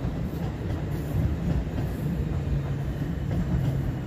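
A DB Regio Bayern S-Bahn Nürnberg double unit, class 1440, on the S1 from Forchheim pulls into track 3 with a steady low rumble and faint wheel clatter, loud and continuous.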